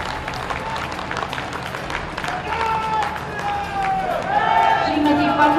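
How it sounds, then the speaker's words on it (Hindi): A crowd at a state government event in Kanpur claps while symbolic cheques are handed to farmers. Steady, moderate applause runs under an announcer speaking in Hindi over a loudspeaker. "आपकी तालियों के बिना सब कुछ सूना है"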